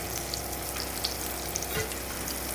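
Oil with cumin seeds, onion and spices frying in a home kitchen, a steady soft sizzle with faint crackles throughout, fairly quiet and without talk.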